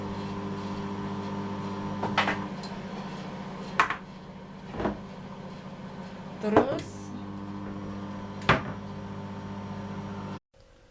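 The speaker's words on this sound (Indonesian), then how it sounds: "Terus ini udah di microwave, udah anget-anget kuku." A microwave oven warming milk for Turkish pide dough: a steady electrical hum runs throughout, broken by several sharp clicks and clunks, before it cuts off abruptly near the end.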